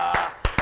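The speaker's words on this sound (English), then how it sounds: "clap your hands and break" Three sharp hand claps in a church service, spaced unevenly with a brief gap before the last two, close and fairly loud with no talking.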